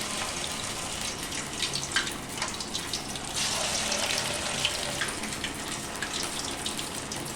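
Small vadas of leftover-rice batter dropped into hot oil give a steady, fairly quiet crackling sizzle that swells slightly midway and continues without talk.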